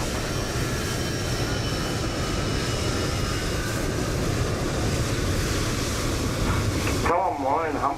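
Airliner landing in Microsoft Flight Simulator 2020: a steady, loud jet-engine roar holds for several seconds, then cuts away as a voice briefly comes in near the end.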